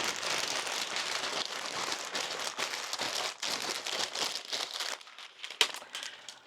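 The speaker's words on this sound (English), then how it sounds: "I like to wrap them in paper. Now this is going to be loud for a second." Paper crumpled by hand to wrap sturdy plant stakes in a studio, a dense, loud, continuous crinkling that runs for several seconds, then thins into a few sharper rustles, with no voices.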